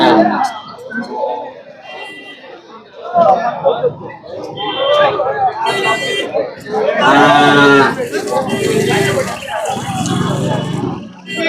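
Punganur cattle moo loudly at a cattle market among several people talking nearby, with one long, drawn-out low standing out.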